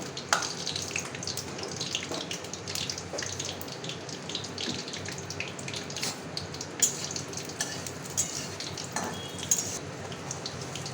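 Whole spices (dried red chilli, bay leaf, cardamom and clove) sizzle in hot oil for a mutton khichuri, a steady crackling fry with scattered sharp pops and occasional stirring clinks, heard close and alone.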